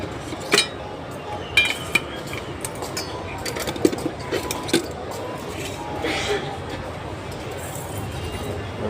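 Rice lifted from a bowl with a spoon, giving a few light clinks and scrapes of utensils on dishware over a steady room background, with a person talking throughout.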